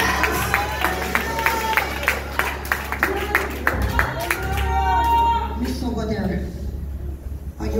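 A church congregation claps in a steady rhythm at a worship service, with crowd noise and cheering around it. A preacher's voice rings over the clapping, and the claps fade into a swell of voices near the end.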